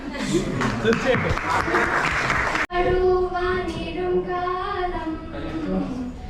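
An audience at an Onam celebration in Portugal claps in a dense burst for a few seconds, then the clapping cuts off abruptly and a voice takes over.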